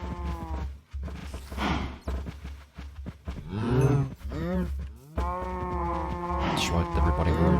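Cows mooing in Minecraft, several drawn-out game moos in quick succession, loud and close, with a voice talking over part of them.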